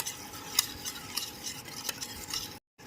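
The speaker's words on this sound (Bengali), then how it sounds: "এবার একটা হ্যান্ড উইস্কের সাথে খুব ভালো মতো দইয়ের মিশ্রণটা ফেটিয়ে নিচ্ছি" Strained sour yogurt beaten in a bowl with a hand whisk while making sweet yogurt: quiet, rhythmic scraping strokes repeating steadily, ending in a brief silence.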